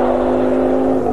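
A Suzuki Swift GTI class 1300N rally car drives at a 1997 Yugoslav rally stage, its engine a loud, continuous, close drone for about a second with no other sound on top.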